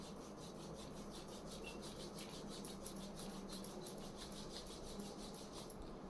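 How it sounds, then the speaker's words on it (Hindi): Two hands rubbed briskly together in a steady, rapid back-and-forth rhythm, a soft continuous dry swishing, close and quiet, with no talking. "अपने दोनों हाथों को रब करना है।"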